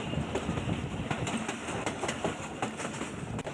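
Millat Express passenger train running between Sargodha Junction and Bhalwal, heard from inside a front coach: a steady broadband rumble of wheels and carriage with faint rhythmic clacks throughout, no talking.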